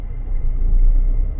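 A car rolls into a temple compound in Nanjanagudu, a steady low engine rumble close by and continuous, with no voices.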